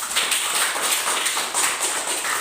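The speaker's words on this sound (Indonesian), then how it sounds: "Ayo, mari kita memberi aplaus." A classroom of primary school pupils claps together, a dense, continuous patter of many hands at even loudness throughout, with no voices over it.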